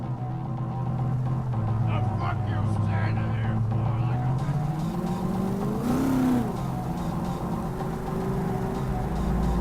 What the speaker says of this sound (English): Jackie's car is a super-powered sports car running on Chew-2, the super fuel of the future